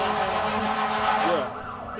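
A fire truck siren wails steadily at a grand opening event, loud and continuous outdoors, fading slightly toward the end.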